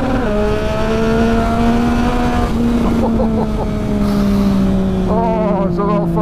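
Engine of a 2020 Triumph Speed Triple RS motorcycle while riding, a loud steady drone that rises and falls with gear changes under constant wind roar, heard close from the rider's position.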